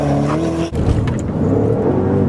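A Porsche Panamera Turbo revs hard at a launch-control start, a loud, close engine drone that dips sharply for an instant, then surges back with a rising, throaty roar.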